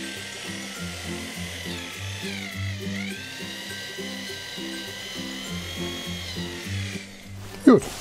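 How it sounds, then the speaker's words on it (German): A power drill whines steadily with a stuttering, pulsing motor tone for several seconds while drilling into the base frame of an N-scale model railway, ending with a brief sharp clatter. "dann jetzt eine Runde bohren"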